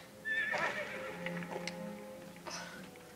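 A horse whinnies loudly once in Lego Lord of the Rings, followed by a few hoof clops and shorter snorts, with a synthetic, game-like quality and no talking.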